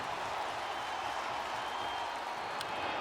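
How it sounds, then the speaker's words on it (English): A big baseball crowd at Citi Field during a Mets game against the Angels gives off a steady, distant roar and murmur that holds without letup. "and this big crowd at Citi Field into it."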